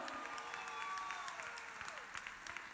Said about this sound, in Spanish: En los teclados, Martín Lorengel, fuerte el aplauso.